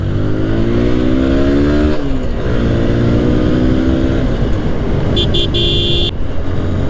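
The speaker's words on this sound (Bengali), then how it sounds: "এখান থেকে হেভি হেভি গাড়ি আসে" Road traffic on a route used by heavy vehicles roars loudly and continuously up close, with engine tones rising and falling as vehicles pass and a short horn toot near the end.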